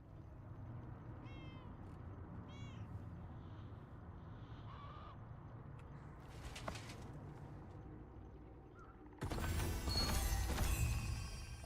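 Short meows from a cat in the Throne and Liberty game, two faint chirpy calls early on over steady ambient game background, followed later by a loud burst of combat or crash noise.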